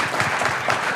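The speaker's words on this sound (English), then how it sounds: "please join me in a round of applause for our panel" A full round of applause from an energy conference audience for a panel, dense, steady clapping that fills the room evenly from start to finish, loud and with no voices.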